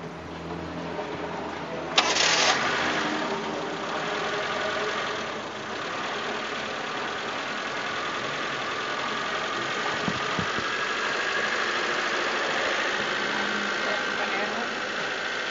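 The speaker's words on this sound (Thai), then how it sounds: "ตั้งรอบเครื่องสูงตลอดแบบนี้เลย" A Mitsubishi E-car engine holds a steady, constantly high idle with a continuous mid-pitched drone and slight knocking vibration, while people talk nearby.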